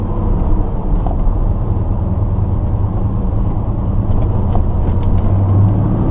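Steady low engine rumble from a 1970 Chevrolet Chevelle SS with manual clutch while driving, a continuous loud drone with road noise and no speech.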